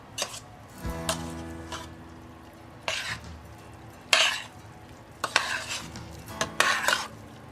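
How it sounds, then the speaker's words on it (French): Stirring cooked quinoa and vegetables for Tex-Mex stuffed peppers with a spoon in a pot, giving several separate scraping, clinking strokes, close and moderately loud, with quiet pauses between them. "On mélange bien le tout soigneusement."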